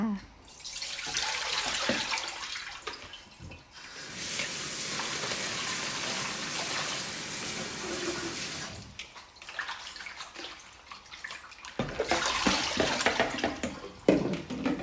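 Kaffir lime leaves are washed in water, with running water splashing and swishing in long continuous stretches broken by short pauses and handling noises, and a voice talks at times.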